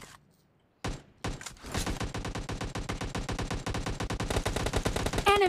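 Rapid automatic gunfire from the PUBG battle royale game, a dense continuous burst of shots that starts after a brief quiet gap and keeps going loud and steady to the end.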